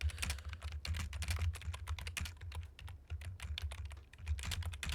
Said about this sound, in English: And we'll type this out.